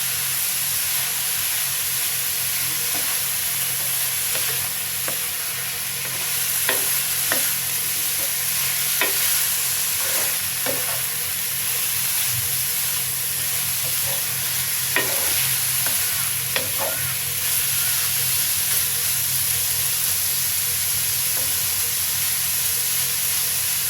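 Papaya zarda being stirred in a pan with fried chopped nuts, a steady soft sizzle and hiss with scattered clicks and scrapes of the spoon, close and continuous with no talking.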